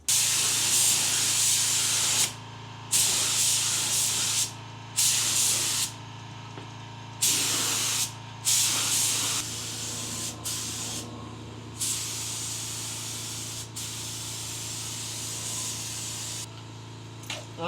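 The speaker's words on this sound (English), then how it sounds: "I'm gonna start spraying here in a second" Spray gun driven by a small air compressor laying primer onto a car, in repeated loud hissing bursts of one to two seconds separated by brief pauses, with a steady low compressor hum underneath throughout.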